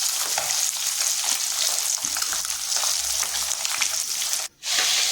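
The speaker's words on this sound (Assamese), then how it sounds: "মাছখিনি তেলত দি ভালকৈ ফ্ৰাই হৈ লওক" Fish pieces rubbed with turmeric and salt fry in hot oil, giving a loud, continuous sizzle close by with occasional stirring clinks and one brief cut near the end.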